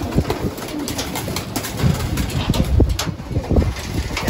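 Pigeons cooing in a loft, with repeated soft, low coos from several birds close by, layered over light wind noise and a steady background hiss, no talking.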